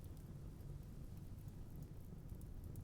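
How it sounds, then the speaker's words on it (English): Steady rain with a low thunderstorm rumble from the video game RimWorld, a dense, even wash of noise running without a break and no talk over it. "Did it turn into like a thunderstorm and then stop while we were away?"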